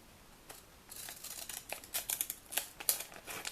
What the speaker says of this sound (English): I'm going to take those wave scissors again and cut the top of that.